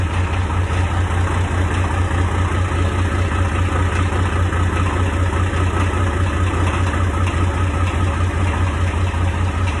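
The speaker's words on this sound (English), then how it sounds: "Nice tractor." An old farm tractor's diesel engine idles steadily as it warms up on a cold, snowy day, a continuous low, rumbling chug that stays loud and close throughout with no voices.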